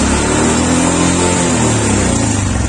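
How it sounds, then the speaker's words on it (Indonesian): A motorcycle engine runs steadily and loudly throughout, rising slightly in revs as the throttle opens a little, during a stator coil check for a burnt winding. "Sekarang saya tambahkan RPM-nya."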